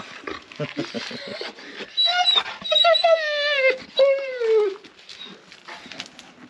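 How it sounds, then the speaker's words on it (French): A small dog whimpers and cries close by, starting with short snuffling bursts, then rising into a run of high, wavering whines and drawn-out yelps that fade away. "Pleure pas mon petit toutou, c'est rien, allez."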